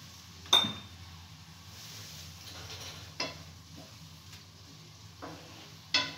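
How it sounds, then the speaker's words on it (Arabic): Vermicelli frying in oil in a pan, a soft continuous sizzle punctuated by several clinks and scrapes of a utensil stirring against the pan. "صافي نخليو هادشي ديالنا يتقلى مزيان"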